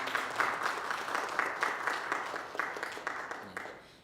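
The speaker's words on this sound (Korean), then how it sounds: "우리 찬양대 힘차게 박수하겠습니다." A church congregation applauding a choir steadily for about four seconds, dense overlapping claps at moderate volume before fading out at the end.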